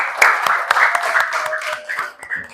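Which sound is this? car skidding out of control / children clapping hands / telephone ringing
children clapping hands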